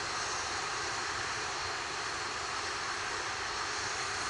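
An Atlas rocket's RD-180 engine roaring during launch, a steady broadband rumble with no breaks, dense and uniform throughout as heard on a distant broadcast feed.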